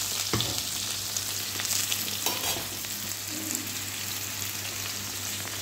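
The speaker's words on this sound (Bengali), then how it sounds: "এই যে এখানে সবজিটাও ভেজে নিচ্ছি একদম" Vegetables and fish heads fry in a pan over a gas stove in a home kitchen, giving a steady, close sizzle with occasional sharper crackles and stirring scrapes, and no talk.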